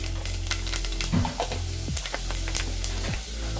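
Fenugreek seeds dropped into hot oil alongside already-popped mustard seeds for rasam, giving a steady close sizzle with scattered crackles and pops and occasional stirring clinks.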